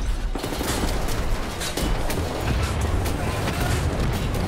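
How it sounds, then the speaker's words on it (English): Dense, continuous enemy gunfire rattles in Wolfenstein: The New Order, a loud, unbroken barrage of rapid shots and booms filling the whole stretch of combat. "who else is shooting me?"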